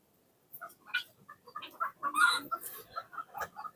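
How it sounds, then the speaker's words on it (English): Birds in an aviary give short clucking, cooing calls in quick irregular bursts, close and moderately loud against an otherwise quiet background. "Many pigeons perching."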